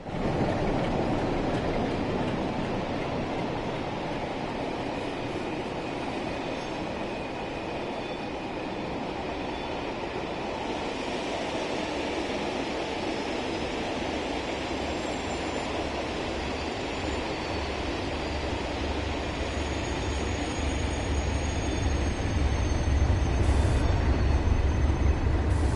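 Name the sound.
Class 37 locomotive train running, from video game Train Sim World 6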